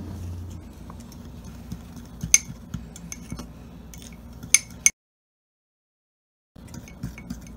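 A spoon stirs dry powdered ingredients, cinnamon among them, in a mug for a carrot mug cake, giving soft scraping with several sharp clinks against the ceramic, then a few seconds of silence before the light stirring resumes.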